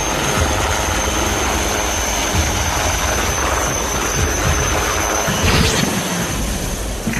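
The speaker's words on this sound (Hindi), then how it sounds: "एडवांस्ड लाइट हेलीकॉप्टर ध्रुव अकेला ऐसा हेलीकॉप्टर है" A HAL Dhruv advanced light helicopter of the Indian Army, Siachin setting, roars steadily with loud continuous rotor and engine noise and a high turbine whine, close and unbroken.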